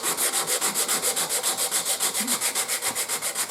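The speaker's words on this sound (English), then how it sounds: "I'm going to take my 220 grit sandpaper," Hand sanding wood with 220 grit sandpaper while cleaning up leftover glue on a wooden steam engine build: steady, rhythmic back-and-forth scratchy strokes, close and fairly loud, about seven strokes per second with no talking.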